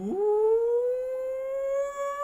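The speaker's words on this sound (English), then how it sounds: "Siren." A rising, wailing siren swells from a low pitch to a steady high tone and holds there, clear and fairly loud, with rich harmonics and no talk over it.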